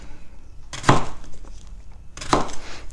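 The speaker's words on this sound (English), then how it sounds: "And then I take them and kind of cut them again in about 1/4 inch pieces" A kitchen knife cuts sweet potato slices into quarter-inch pieces on a board, with two distinct crisp chopping strokes about a second and a half apart and quiet pauses between.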